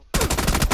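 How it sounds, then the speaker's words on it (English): Rapid burst of automatic gunfire in PUBG, loud and close, about six or seven sharp shots in quick even succession after a brief silence. "I think I got shot at"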